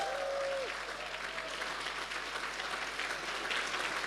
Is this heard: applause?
yes